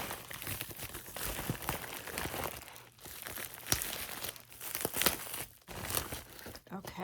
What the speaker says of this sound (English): there's a lot of wrapping. Like this is a bubble wrap envelope, and we've got bubble wrap around it.